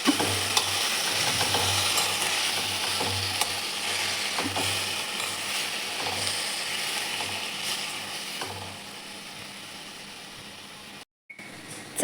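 Methi greens with cumin and crushed green chili thecha fry in hot oil, a steady sizzle with repeated scraping stirs for about eleven seconds before a brief cut.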